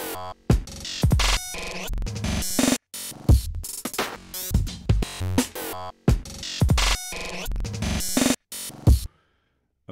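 Glitchy sampler patch built in Bitwig's The Grid chops old-school drum breaks into stuttering, abruptly cut fragments, loud and dense with sudden dropouts, ending in silence.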